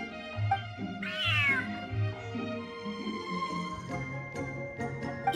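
A cat in the video game Genshin Impact meows several times, including one long rising, wavering yowl, close and clear over soft game background music.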